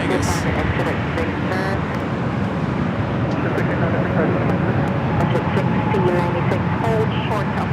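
A Delta Airbus A321neo lined up for takeoff at LAX produces a steady, broad jet roar that stays even and continuous throughout, with airport ambience around it.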